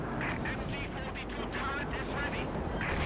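Tank cannon fire in a Company of Heroes 2 match, a Churchill Crocodile trading shots with a StuG's 75mm Sturmkanone, booms and gunfire layered continuously under a caster's fast commentary.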